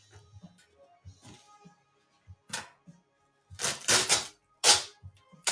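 Paper wrapping on a birthday gift being torn open, a scatter of soft crinkles and taps followed by a few loud, close ripping bursts near the end.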